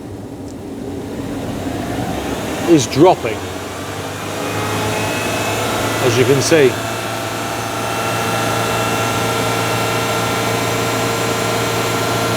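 A Rover 75 engine, suspected of a blown head gasket, revs twice in short rising bursts over a steady, close idle while someone talks.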